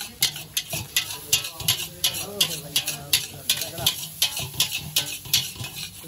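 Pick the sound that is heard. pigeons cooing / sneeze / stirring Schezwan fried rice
stirring Schezwan fried rice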